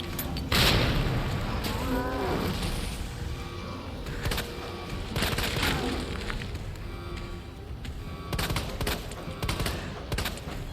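A grenade detonates in Resident Evil 2, with heavy booming blasts and crashing bursts standing out over a constant dense game soundscape of rumbles and impacts.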